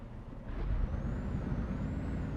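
Truck air brake releasing in a driving video game, a steady hiss of air over a low rumbling engine, loud and continuous with no talk.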